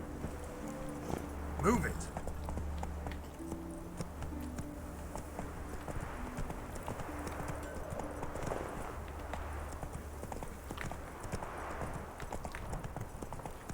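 Rhythmic hoofbeats of a horse galloping in The Witcher, a steady clip-clop running through the whole stretch over game music, with a voice speaking briefly near the start.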